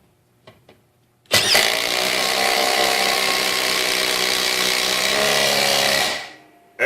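A Milwaukee M18 impact driver with a 3/8 inch adapter and a 7/16 inch socket drives a 2 3/4 inch fastener. A couple of faint clicks come first, then a loud, steady hammering run of about five seconds that stops cleanly.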